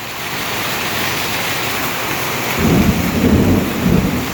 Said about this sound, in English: You heard it, the thunder.